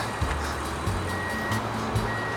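A facelifted Kia Carnival gives a series of short, low electronic beeps, about four evenly spaced, signalling that smart-key remote parking is ready, heard near the vehicle over steady background noise.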